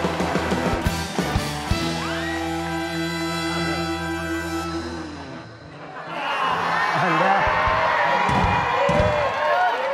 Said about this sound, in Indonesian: Tepuk tangan buat juri kita pada malam hari ini.